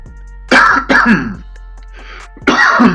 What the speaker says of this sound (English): Got a little cough there